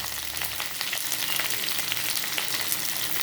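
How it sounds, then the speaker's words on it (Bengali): Jackfruit pieces fry in hot oil in a pan, giving a steady, dense sizzle with crackling pops throughout, close and continuous with no talking. "যতক্ষণ একটু বাদামি রঙের হবে ততক্ষণ এটা ভাজতে থাকবেন।"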